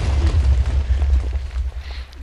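A loud TNT explosion in a video game, a heavy low booming rumble that fills the whole moment and slowly fades, with no voices.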